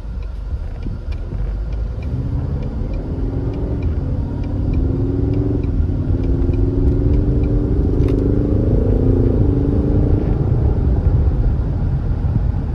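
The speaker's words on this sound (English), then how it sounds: "another little acceleration out of here just to give you guys another little listen to that" A 2020 Ford Mustang EcoBoost convertible's engine revs up and climbs steadily in pitch, a loud, continuous rising roar with a deep rumble underneath.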